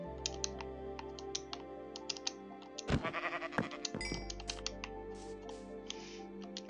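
Minecraft sheep bleat a few times in the middle of the clip, one loud nearby bleat followed by a quieter one, mixed with steady close computer keyboard typing.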